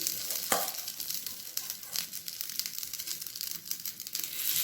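Appe made from curd and vermicelli batter fry in a pan with a steady, close crackling sizzle, plus one sharp tap near the start and light scraping, with no talking.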